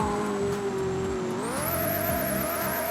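Car engine from the Roblox game Car Crusher 2, droning steadily at close range and rising in pitch partway through as the car speeds up, with a high whine over it and no talk.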